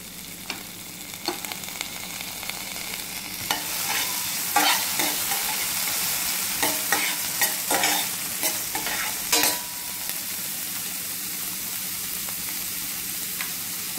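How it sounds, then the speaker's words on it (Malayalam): Onion hits a pan and fries for a chicken pizza topping, a loud continuous sizzle punctuated by repeated scraping stirs of a spatula in the middle stretch. "ഇനി നമുക്ക് സബോള ആഡ് ചെയ്ത് കൊടുക്കാം."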